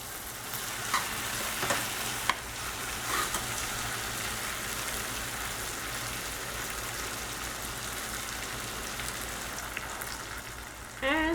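Okra frying in oil with spices and onion for bhindi masala, a soft even sizzle with occasional light scrapes and taps of a spoon as it is stirred, steady throughout with no speech.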